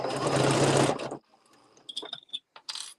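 A sewing machine with a walking foot stitches fabric in a fast, close, whirring burst of about a second, then stops, followed by a few faint clicks and mechanical taps.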